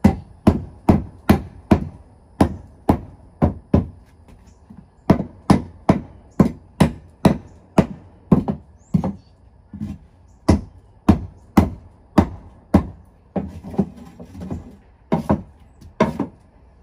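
Sharp, evenly spaced strikes on treated wood for a front porch, cutting and carving it, come in quick bursts of several blows separated by brief pauses, loud and close with no talking.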